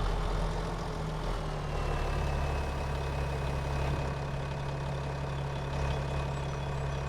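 A 119 horsepower medium tractor engine runs in a farming video game, a loud, steady low drone with a constant hum and faint whine, unbroken throughout.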